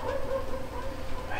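Dog barking in the Minetest video game, a few quick yipping barks mixed into a steady noisy game background with some talk, fairly faint.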